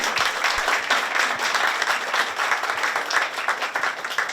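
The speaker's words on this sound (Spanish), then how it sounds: "Hacemos un fuerte aplauso" Warm applause from the audience at a legal lecture in a hall, steady, fairly close clapping with no pause, carrying on alone for several seconds.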